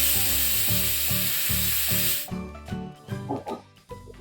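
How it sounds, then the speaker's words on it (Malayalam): Pressure cooker on a high flame with a steady, loud hiss of steam for about two seconds that then cuts off, leaving quieter irregular clatter and rattling in a kitchen. "ഇതുപോലെ ആവി വരാൻ തുടങ്ങിയിട്ടുണ്ടെങ്കിൽ നമുക്ക് വെയിറ്റ് ഇട്ട് കൊടുക്കാം."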